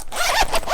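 A gold zipper on a fabric travel jewelry organizer is pulled open in one quick, close, raspy run lasting under a second.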